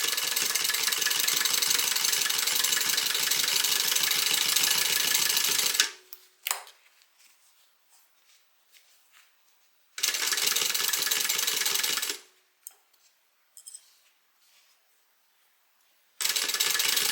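A sewing machine stitches a fabric bag in two loud, steady, rapid bursts of about six and two seconds, each separated by near silence, with a third burst starting at the end.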